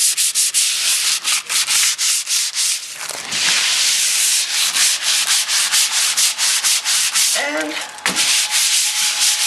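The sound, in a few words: sanding drywall with 120 grit sandpaper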